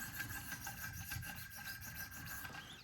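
A Benchmade Bugout knife with an M390 steel blade is drawn across the stones of a Wicked Edge guided sharpener in quick, light strokes, giving a continuous close rasping rub with no talking.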